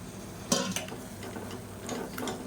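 Bottle gourd being sautéed in tomato masala for a cowpea curry, with a faint steady sizzle under a few quick spatula scrapes and clinks against the pan, with no talk.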